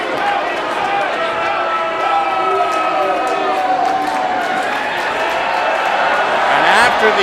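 Wrestling crowd at an independent show in Vancouver, Canada, murmuring and calling out after a chair is brought in as a weapon, a steady roomful of voices with scattered shouts and a small swell at the end.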